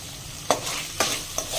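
Diced potatoes sizzling in hot oil in a pan for sabudana khichdi, a steady close hiss broken by a few sharp scraping stirs of a spoon.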